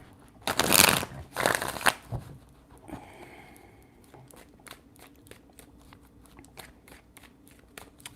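Tarot cards are shuffled in two loud, crisp riffling bursts up close, followed by softer scattered taps and light shuffles of the deck.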